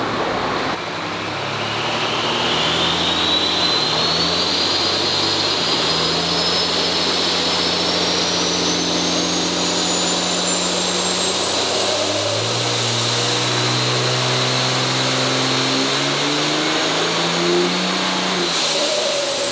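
A 5.9L diesel Mega Cab dually truck revs hard on a dyno, its engine climbing in long loud pulls with a rising turbo whistle, easing off and building again, close and continuous.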